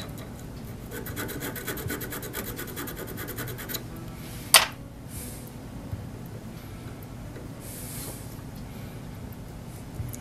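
Rhythmic rasping strokes of a file knocking the burr off an auger bit's cutting edge, then a sharp clink and quieter scraping continuing steadily, close up with no talking.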